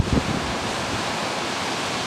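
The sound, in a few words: ocean waves on the coastline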